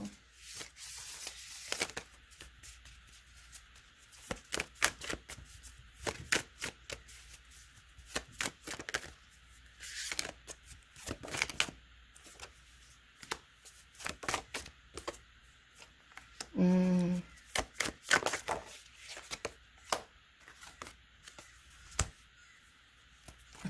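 A deck of animal oracle cards is shuffled and handled, making soft, irregular riffling and rustling bursts that are faint and close, with brief pauses in between.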